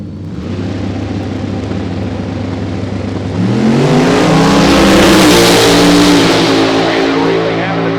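Small-tire drag racing cars rumble at the line, then roar loudly as the engines rev and accelerate hard down the strip, the pitch climbing and staying strong to the end.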